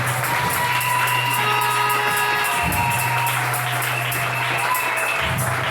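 A church congregation applauds and cheers during a worship service, producing a steady wash of clapping and crowd noise over sustained musical tones, with a few louder swells.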